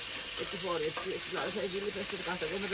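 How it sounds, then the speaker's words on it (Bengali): Onions and green chillies fry in hot oil with a steady, close hiss and crackle throughout, while a voice talks over the sizzle. "গরম তেলে পেঁয়াজ আর কাঁচা লঙ্কা"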